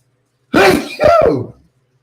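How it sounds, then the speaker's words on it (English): One loud, close sneeze in two bursts, a sharp intake followed by the explosive release, in an otherwise silent room. "while I'm having a sneezing attack"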